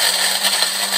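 An electric grinder whirs steadily as it grinds fishing pellets into groundbait, a loud, constant, close mechanical hum with no pauses.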